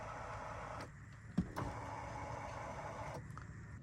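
A small electric motor hums steadily inside a car for a few seconds, bracketed by soft clicks, close and fairly quiet.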